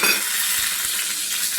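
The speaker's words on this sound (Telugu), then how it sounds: "ఈలోగా ఎండుమిరపకాయలు వేయండి, వెల్లుల్లిపాయలు ఒక పాయ ఈ విడిగా వేపేసుకుందాం" Dried red chilies, garlic and cumin frying in a pan, a loud, constant bright sizzle with a few soft stirring scrapes, no talk.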